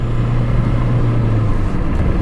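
A 2003 VW Jetta TDI turbo diesel drives along, its engine hum steady and fairly loud from inside the cabin, with a whining tone that holds, then fades near the end.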